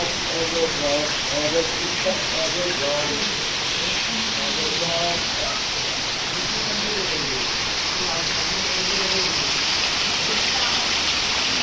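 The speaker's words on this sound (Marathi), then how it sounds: "इकडं मोठा पाऊस आला" Steady, dense rain hisses loudly throughout in Konkan, India, during the Ganapati festival, with voices talking faintly beneath the downpour.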